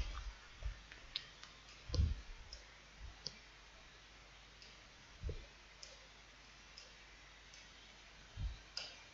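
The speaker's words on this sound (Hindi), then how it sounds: "मैं लिख देता हूं बोर्ड पे इब्राहिम लोधी" Someone writes on a classroom board during a history lesson, making scattered faint taps and sharp clicks at an irregular pace, with no speech over them.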